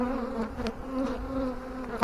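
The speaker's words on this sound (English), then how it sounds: "There's so many bees on here." Honey bees buzzing densely over a packed hive frame, a steady close drone with individual bees whining past, no talking.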